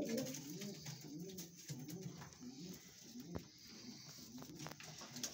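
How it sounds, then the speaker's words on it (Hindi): A pigeon held in the hand on a rooftop loft coos in repeated low, rolling phrases, fairly close, with some faint background noise and brief voices. "ये मेरे हाथ में जो कबूतर है"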